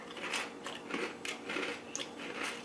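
Crisp crunching from bites of a waffle at a breakfast meal, several close, dry bursts in an irregular rhythm, fairly faint, with no talking.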